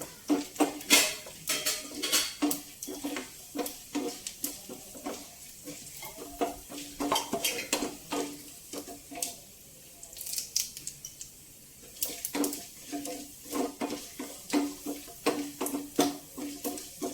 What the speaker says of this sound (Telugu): ఎండుమిర్చి, ఆవాలు, జీలకర్ర వేగిపోయినాయండి